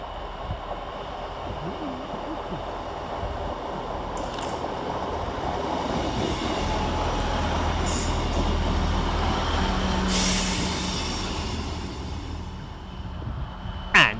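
Northern class 158 diesel unit at Halifax railway station: a steady rumbling engine drone rising and falling as it moves, with a few faint higher metallic squeals and a brief knock at the end.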